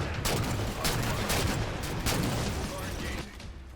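Rapid gunfire in Halo 4 crackles in a steady stream of closely spaced shots over loud battle noise, with a voice heard alongside.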